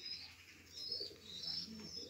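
Baku marbled pigeons cooing in a village in Dagestan, soft repeated coos with faint high chirps, quiet and close, no speech.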